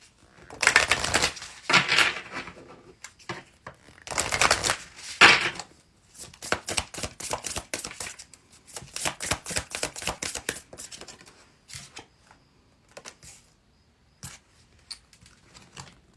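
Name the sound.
tarot cards being pulled from a deck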